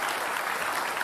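A brief burst of dense audience clapping for Anies Rashid Baswedan at a televised Jakarta gubernatorial debate, steady and full without any voices.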